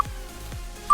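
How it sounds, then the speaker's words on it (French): Short electronic tones from a phone, a tonal beep at the start and another at the end, clear and close during a quiet home workout with an elastic band. "J'ai une notification qui a un peu retardé mon chronomètre."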